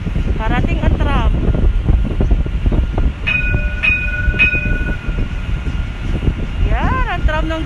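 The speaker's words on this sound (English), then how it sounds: "Parating ang tram." Tram approaching along a street in Dubai, its rumble heard beneath steady wind noise with several short horn tones in the middle, while people talk nearby.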